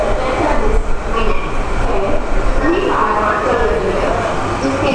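Trains rumble and roll at Ludhiana railway station, a steady, loud rail noise with faint wheel squeal, while someone talks over it throughout.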